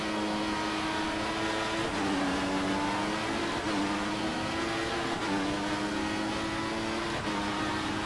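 A Formula 1 race car engine in the F1 2014 video game, revving at the start of a sprint race in Bahrain: a loud, continuous high-pitched whine that steadily rises and drops in pitch as it shifts through gears, with no talk.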